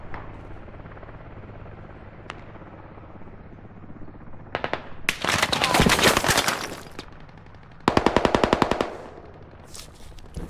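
Gunfire from the military shooter game Squad during a rooftop extraction, with faint distant shots at first, then two loud bursts of rapid automatic fire, each lasting about a second or two, and a few scattered shots at the end.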